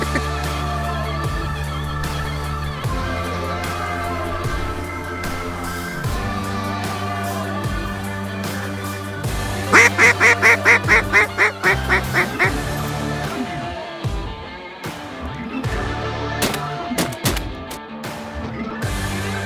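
Ducks flying in over a waterfowl hunting spot in Alberta, a burst of rapid quacks rising over steady background music.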